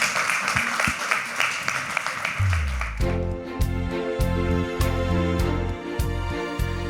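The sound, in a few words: audience applause for a pitch contestant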